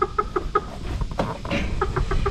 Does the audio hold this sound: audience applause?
no